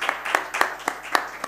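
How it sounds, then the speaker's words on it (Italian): A few sharp, separate hand claps at the close of an online lesson, about six distinct slaps in a loose rhythm, close and fairly loud, with a faint voice underneath. "E applauso."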